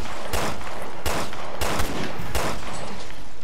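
Enemy gunfire in the co-op game Resident Evil Revelations 2: four loud, evenly spaced gunshot bursts over a constant noisy battle backdrop, each with a sharp attack and short tail.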